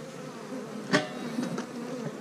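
Honeybees buzz around a hive box outdoors, a soft, continuous drone with one bee passing close and loud near the start, then a few fainter passes.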